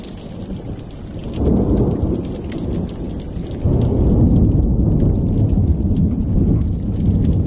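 Steady rain pours down with rumbling thunder during a thunderstorm over coastal water at Gullmarn in Sweden, growing noticeably louder partway through and staying dense and continuous, with no voices.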